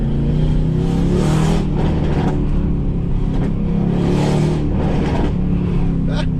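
A straight-piped, catless, tuned Mercedes-AMG C63s roars as it revs and accelerates, loud and close with rising and falling surges of engine noise over about six seconds.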